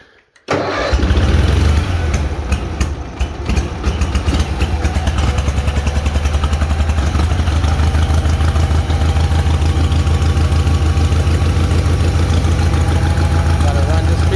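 A Bolens HT-23 tractor engine cranks, fires up and settles into a loud, steady chugging run, with a brief wavering as it starts and low-pitched pulses continuing after that.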